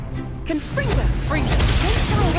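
A Confringo blasting curse goes off in the Hogwarts Legacy video game, a loud whooshing burst with crackling impact landing about halfway through, amid busy game effects, a voice shouting the spell, and ongoing combat noise.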